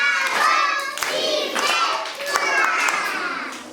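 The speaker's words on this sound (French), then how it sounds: "applaudissez" Children clap at a thanksgiving mass for school pupils, several short bursts of hand claps mixed with children's excited voices, fairly close and lively.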